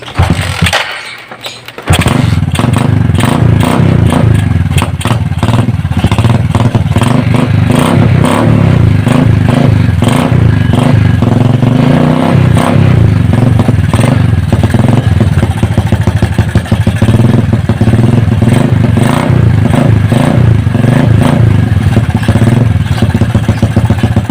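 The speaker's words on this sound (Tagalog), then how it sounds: "kung nakikita nyo, bali umandar na yung motor" A motorcycle engine with a dirty carburetor sputters to life and then runs loudly and steadily at close range, a rough rattling idle with occasional revs.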